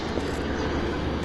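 An airplane passes near an airport, heard as a loud, steady engine drone and rumble that holds level for the whole moment.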